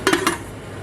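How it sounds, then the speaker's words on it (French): Two quick metallic clanks as a lid is set onto a cooking pot of vegetable potée, the first clank sharper and the second lighter, close by and followed by quiet room tone. "on va mettre un couvercle"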